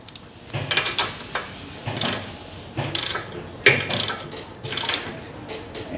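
Ratchet wrench snugging a Champion RC12YC spark plug on a Murray MT100 riding mower, heard as short bursts of close, crisp metallic clicking repeated about six times with brief pauses between strokes.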